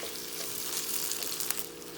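Onions, ginger, garlic and tomato fry in a pan for chicken curry, giving a steady close sizzle with a faint stir or two.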